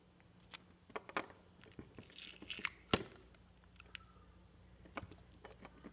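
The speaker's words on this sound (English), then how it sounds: "we're just going to put a thin wrapping over the coil" Clear sealing tape is pulled and wrapped around the coil of an EGR solenoid, giving scattered crinkly tearing and sticking sounds with a louder rip near the middle, close up in a quiet room.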